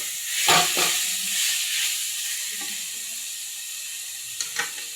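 Boiled noodles stir-fried for chow mein in a pan, a steady close sizzle and hiss with a few scraping stir strokes and clanks, no talking.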